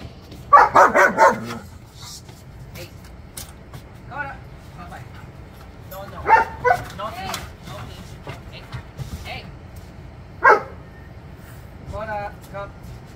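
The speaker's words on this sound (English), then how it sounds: "Koda barks, Frankie barks." Two dogs bark in short bursts, a loud cluster near the start and more scattered barks and yips later, over low rumbling background noise.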